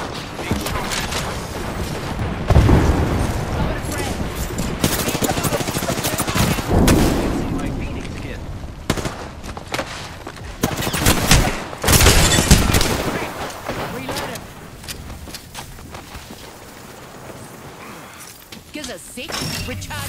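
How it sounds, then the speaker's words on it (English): Apex Legends gunfire rattles in rapid bursts and heavy single shots through a busy firefight, loud and close, with a player's voice talking over the shooting. "the enemies are shooting at me"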